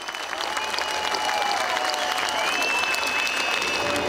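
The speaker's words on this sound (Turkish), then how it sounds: "ben sizi alkışlıyorum" An audience at a Circassian genocide and exile commemoration in Beşiktaş applauds steadily, dense continuous clapping from a large crowd at moderate distance, with faint voices in the background.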